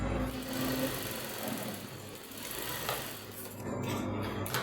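A sewing machine topstitches padding along the princess dart of a bustier, a steady close mechanical whir running continuously with slight swells in speed and no talk.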